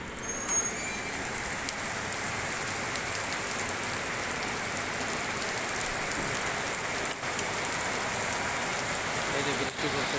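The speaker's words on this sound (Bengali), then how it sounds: "এই যে বৃষ্টি পড়তেছে" Steady rain falls and drums on surfaces for the whole stretch, a dense even wash with a few faint distant clicks and no pauses.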